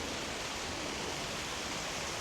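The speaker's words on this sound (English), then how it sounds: "Oh, they even have like a little mini tiny waterfalls out here." Small artificial waterfalls splash into a lake at Manila Zoo, giving a constant broad rushing hiss of falling water, close and even throughout with no voices.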